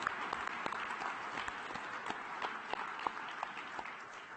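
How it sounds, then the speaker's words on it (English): An audience claps steadily after a panel talk, a continuous dense applause with a few sharper individual claps standing out, heard from within the hall. "So please join me in giving all of our speakers one last round of applause."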